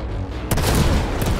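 Gunfire in a shooting match in the Outriders action game: a couple of sharp, loud shots punch through a steady background rumble within a second and a half.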